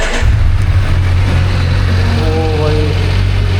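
A Kawasaki Z900 motorcycle engine catches and runs with a loud, steady low rumble close by, its pitch rising briefly as it revs, amid broad wind-like noise.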